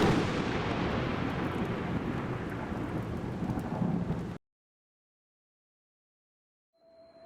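Heavy rain pours loudly with deep thunder rumbling underneath for about four seconds, then cuts off abruptly to near silence before faint sounds return at the end.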